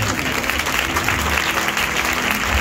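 A church congregation applauds loudly at a Friday healing meeting, a dense, continuous roar of many hands clapping at once, sustained throughout with no gaps.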